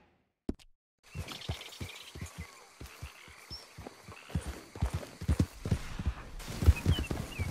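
Horse hooves in Red Dead Redemption 2 clip-clop in a steady walking rhythm on hard ground, close and clear, following a couple of sharp knocks, with faint ambient rustle and no speech.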